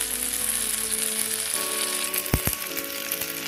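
Shallots and garlic sautéing in a pan for spicy onion chutney, a close, continuous sizzle with a couple of sharp clatters near the end.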